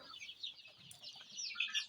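Half-grown chicks of mixed breeds, including Indian, Fizan and Swedish birds, peep in a high pitch on a village farm. The chirps come in quick overlapping bursts that are faint and fairly close.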